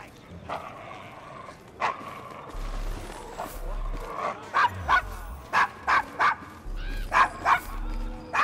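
A dog in the video game Assassin's Creed Syndicate barks and yips repeatedly in short sharp bursts, growing louder and more frequent, over a background of game ambience and voices.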